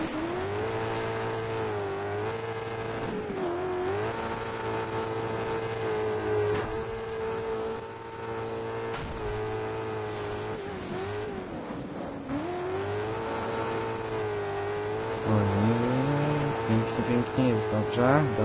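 A rally car engine in the video game Dirt 2 drones and revs continuously at high pitch, rising and falling with gear changes and throttle. The engine is loud and sustained throughout, with brief dips between pulls.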